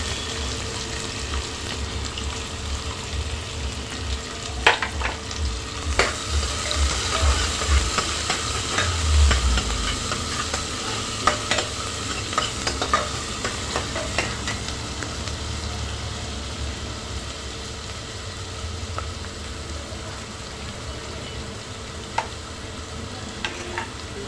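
Onion and masala frying in a little oil while being stirred, a continuous close sizzle with occasional utensil scrapes and taps against the pan, no talking.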